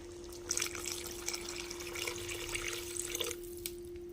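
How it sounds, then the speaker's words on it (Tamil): Water is poured from a cup into brinjal gravy in a pan, a steady soft splashing and trickling that runs for a few seconds over a constant low hum. "இப்போ இது கூடவே ஒரு கப் அளவுக்கு தண்ணி ஆட் பண்ணிக்கிறேன்"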